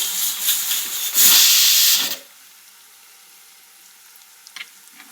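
Mustard seeds hitting hot oil, a sharp surge of loud sizzling and crackle that swells for about a second, then cuts off abruptly, leaving near quiet with one faint tap later.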